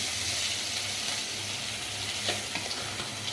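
Beef and eggplant frying in a pan for an Eid meal, a steady soft sizzle with faint stirring scrapes, close and moderately quiet with no voices.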